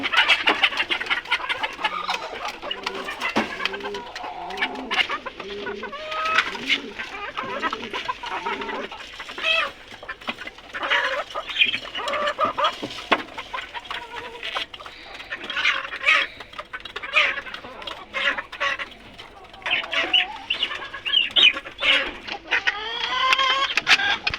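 A flock of chickens clucks busily while being fed, with continuous overlapping clucks and squawks close by, along with scattered rustling and pecking noises.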